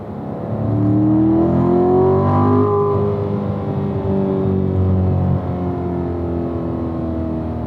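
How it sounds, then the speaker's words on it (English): Car engine in track mode revving up as it automatically rev-matches a downshift, loud and close inside the cabin, a rising then falling engine tone that settles into a steady drone. "it'll automatically rev match for me"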